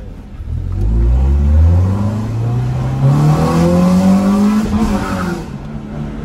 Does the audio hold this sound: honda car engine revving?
yes